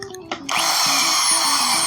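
A power drill bores drainage holes into a plant pot for citrus trees, starting with a few short bursts and then running in a steady, close, high whine with a pulsing low rhythm beneath.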